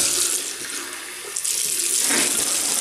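Tap water runs steadily into a sink while a double-edge razor is rinsed during a wet shave, a close, continuous splashing rush with slight shifts as the blade passes through the stream.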